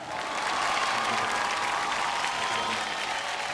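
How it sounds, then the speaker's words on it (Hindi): A large audience at a public event applauds loudly. The dense, sustained clapping stays at full strength from start to finish, with no speech over it. "बहुत एक बार जोरदार तालियां फॉर अमिताभ बच्चन।"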